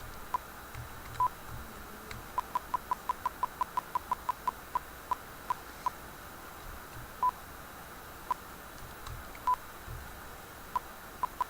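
Short electronic beeps from a Chip-8 emulator, some in quick runs and others spaced irregularly, sounding clearly over a quiet background with no talking.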